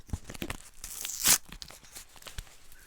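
A hot chocolate packet tears open in one quick, close rip, with soft crinkling of the packet before and after.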